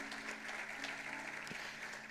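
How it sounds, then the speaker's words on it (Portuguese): Church congregation applauding during a service, a steady, even wash of clapping from many hands that holds at the same level throughout, moderately distant with no break. "Você pode aplaudir a Ele porque crê?"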